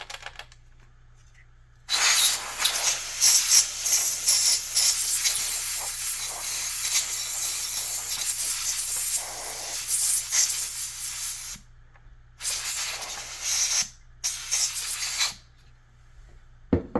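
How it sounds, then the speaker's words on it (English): Compressed air can sprays a long continuous hiss while cleaning a SEGA Genesis console, close and loud, with brief pauses then two shorter bursts near the end, and a low steady hum beneath. "Can of air is cooking."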